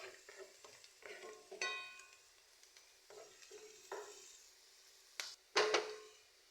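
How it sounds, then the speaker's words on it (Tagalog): Magic cubes being stirred in a hot pan for a creamy shrimp dish, a utensil scraping and clinking in bursts over a soft sizzle, close and quiet with no talking. "Haluin lang natin siya guys hanggang maging light brown."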